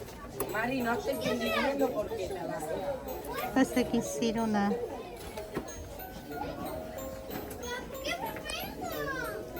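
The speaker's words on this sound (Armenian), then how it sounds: "Այս երեխեքը ոնց են աղմուկ անում։" Noisy children playing, with lots of overlapping kids' shouts and chatter close by throughout, and an adult voice speaking over the din.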